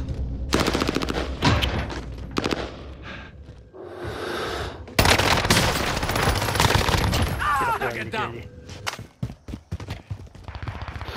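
Bursts of gunfire in the video game Warzone 2, loud and dense with rapid automatic volleys and scattered single shots, mixed with other game sounds and some talk.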